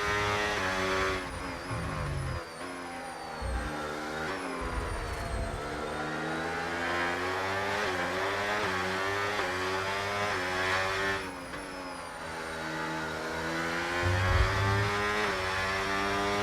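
Onboard engine of an Aston Martin race car in a sim racing game at Zandvoort, a loud continuous high-revving roar with repeated gear shifts and rising and falling pitch, occasional lift-offs, heard alone with no talk.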